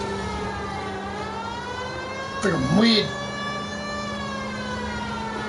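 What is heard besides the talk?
police car siren in a video game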